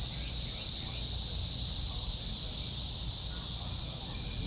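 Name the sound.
loud cicadas buzzing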